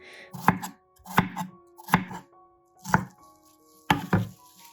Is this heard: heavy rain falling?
no